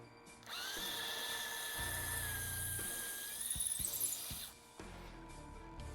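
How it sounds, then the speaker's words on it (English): A power drill whines steadily at high speed for several seconds, its pitch dipping slightly as it bites into material, then cuts off abruptly. "Then you can simply take your drill and drill out the hole through the center of the tool."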